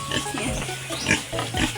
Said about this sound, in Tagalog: Baboy po yan.